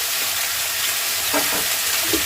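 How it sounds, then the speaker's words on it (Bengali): Steady, loud sizzling of potato and radish frying in hot oil fills the whole stretch, with a few soft stirring scrapes near the end. "আমি যে মূলো আর আলু কেটে রেখেছি ওইটা আমি ভেজে নেবো এই তেলে"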